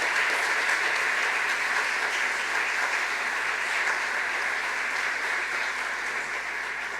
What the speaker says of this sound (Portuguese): Obrigado, uma salva de palmas e o nosso agradecimento.